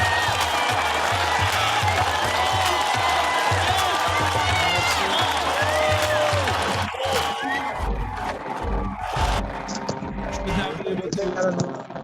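During an online meeting of the IA2030 movement, music with a cheering crowd plays loudly for several seconds, then fades into quieter crowd noise as people begin talking.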